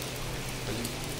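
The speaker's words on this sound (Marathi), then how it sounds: "जूनच्या 5 तारखेला येणारा पाऊस मे महिन्यामध्ये आलेला आहे" Unseasonal May rain falls in a steady, moderate patter, a close, even hiss of drops on surfaces with a faint low hum underneath and no talking.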